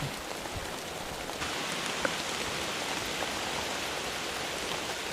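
Steady rain pours down at a day camp, a continuous close hiss of drops pattering on surfaces with a few louder individual drips, no talking.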